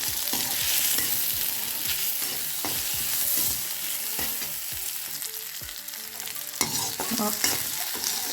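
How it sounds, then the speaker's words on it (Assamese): Chopped potatoes sizzle steadily in a hot pan over lowered heat while a spoon scrapes and stirs them in repeated strokes, close and fairly loud, with no talking. "এইখিনি অলপ ভাজি লওঁ"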